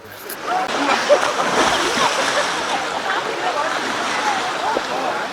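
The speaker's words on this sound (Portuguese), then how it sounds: "Os banhistas lançam-se à água e são arrastados pela corrente extremamente forte" Bathers plunging into an extremely fast, strong river current near Bern, a steady close rush of water with splashing, under continuous talk.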